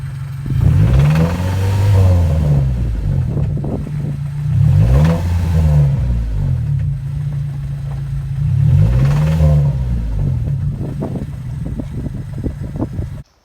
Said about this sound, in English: revved it some, and it is rod knock